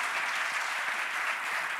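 Dense studio audience applause on a Spanish late-night comedy talk show, loud, even and continuous throughout the short stretch with no talk.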